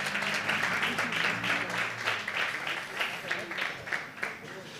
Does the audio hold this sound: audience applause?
yes